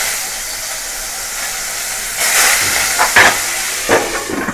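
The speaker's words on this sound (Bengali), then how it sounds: "এবার এগুলোকে আমি ভাজার জন্য দিয়ে দেব এক" Salted, turmeric-rubbed koi fish drop into hot oil in a wok, setting off a loud, steady hiss that swells into sharper sputtering crackles in bursts.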